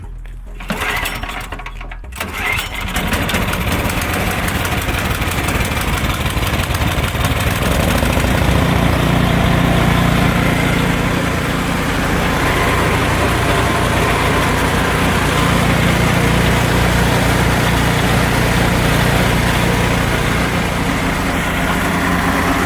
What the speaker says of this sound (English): I'll just plug it in, start the snowblower, and see how the light looks.